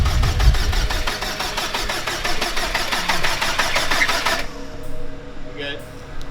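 An 800+ horsepower Subaru Blobeye STi engine fires up for the first time after final assembly, a close, loud cranking and catch that settles into a rough, pulsing idle with rattling overtones, and voices are heard near the end.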